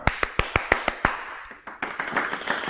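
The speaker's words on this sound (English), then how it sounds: "I'm going to clap a rhythm and you are going to answer me with the same rhythm" Hands clapping a rhythm, seven sharp, close claps in quick even succession, then a pause and a few softer, looser hits trailing off.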